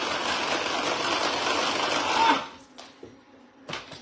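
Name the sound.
electric mixer whipping cream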